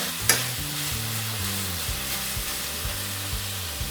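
Hot Italian sausage sizzles in a pan as a fork breaks it into crumbles: a steady, close frying hiss with occasional scrapes and taps from the fork.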